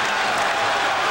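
Rutgers home crowd at a men's college basketball game against Syracuse reacting with a loud, steady roar of noise and cheering after an air ball, sustained throughout with no clear individual voices.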